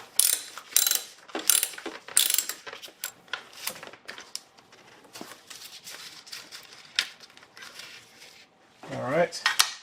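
Ratchet clicking in quick bursts as a bolt is loosened on a 1999 Acura RL during valve cover gasket work, close and crisp with short pauses and a brief voice near the end.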